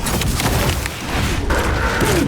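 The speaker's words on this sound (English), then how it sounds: "Frag grenade deployed!" A frag grenade explodes in Warhammer 40K: Space Marine 2, a loud, rumbling blast within dense, continuous battle noise and scattered gunfire.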